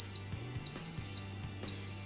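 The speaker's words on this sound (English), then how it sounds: "So the timer went off" Instant Pot pressure cooker timer beeping while cooking hard-boiled eggs: three long, loud, steady electronic tones, separated by short gaps filled with low background hum.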